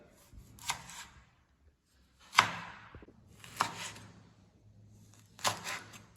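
Knife chopping ripe vegetables into thin, long strips on a board, heard as a few separate sharp cutting strokes with pauses between them, close up with no talking.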